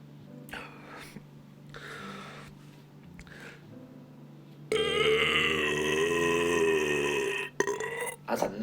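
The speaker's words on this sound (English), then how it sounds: "That's a nice burp." Long, loud, resonant burp after chugging fizzy water, rising out of quieter throat noises and lasting a few seconds with a strong tonal drone before a brief break and further gulping sounds.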